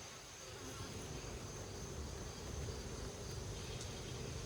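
Honey bees buzzing around an open hive during an inspection, a faint continuous drone of many wings, steady and unbroken.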